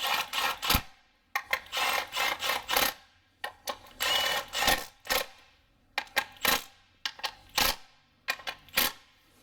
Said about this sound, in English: My impact is already set just to hand tight, so you don't have to worry that it's going to break on there.